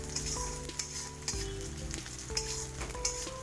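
Onions frying in a pan, a dense close sizzle with steady crackle and occasional sharper spits and stirring scrapes, continuous throughout with no voices.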